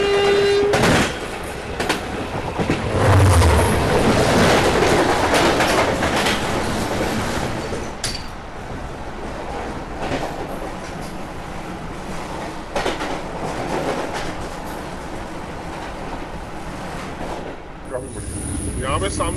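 A passenger train on a scenic route from Guwahati to Badarpur in northeast India rumbles along the tracks, a loud steady roar with clattering wheels, a brief horn early on and faint talk inside the carriage.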